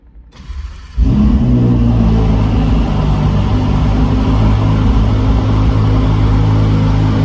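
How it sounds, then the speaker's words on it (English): A faint whir, then a sudden loud Ferrari 488 Pista Spider engine cold start in a garage that settles into a steady, heavy rumbling idle, close and dominant. "Let's get a cold start on the Pista Aperta in the garage."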